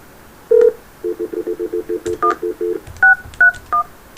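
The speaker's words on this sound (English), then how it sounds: "So I'm dialing the number." Telephone keypad tones play loudly over a speakerphone, one long beep and then a quick run of about a dozen evenly spaced dialing tones, ending in a few higher, sparser tones.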